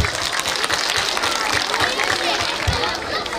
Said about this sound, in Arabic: تصفيق عليها تصفيق عليها تصفيق عليها